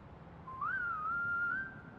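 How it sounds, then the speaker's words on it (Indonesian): A real human whistle from a song rises briefly, then holds a steady, clear tone for about a second over a soft, hazy musical backing. "Oh, siul beneran cuma di combine sama beberapa instrumen guys ya"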